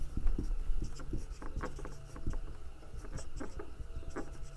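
A pen writes on paper with close, soft scratching strokes and small taps, forming an irregular, steady stream of short marks.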